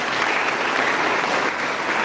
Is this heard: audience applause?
yes